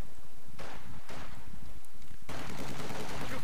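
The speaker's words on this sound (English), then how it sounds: "we have the MG42 firing down on these guys" An MG42 machine gun fires in the World War II game Company of Heroes 2, loud rapid bursts broken by short pauses, with a final long burst, over constant battlefield noise.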